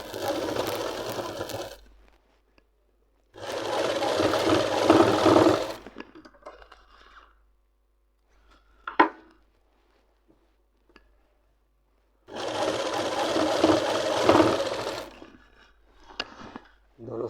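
A sewing machine stitches palazzo pants in three long bursts, two of them about two seconds long and one nearly three, with near silence and a few faint clicks and handling noises between runs.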